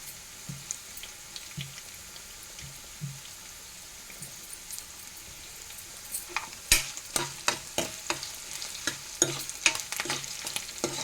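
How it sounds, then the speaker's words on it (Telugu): Food sizzles and fries in a pan under a steady, soft hiss, then a spoon scrapes and stirs in quick repeated clinks that grow busier toward the end. "ఇలా వేపేసాక ఇది వేపేసుకోవాలి"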